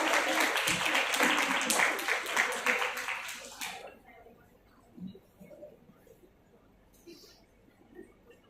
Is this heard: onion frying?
no